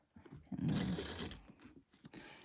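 A sewing machine runs in a short burst while it stitches binding around the edge of a crossbody bag, close and fairly loud, then pauses and restarts briefly with no talking.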